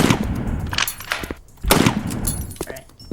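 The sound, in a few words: gunshots in the video game Time Shooter 2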